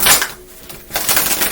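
Tarot cards being shuffled, two loud bursts of riffling card flutter close by separated by a brief quieter pause.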